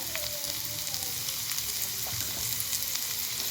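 Home-grown spinach sautéed in a pan with pepper powder, salt and turmeric, giving a soft, steady low sizzle with faint stirring, quiet and close, with no speech over it.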